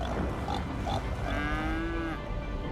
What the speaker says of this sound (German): Wenn das hier schon die ganze Zeit mu mu mu und macht, dann muss es doch auch irgendwo Kühe geben.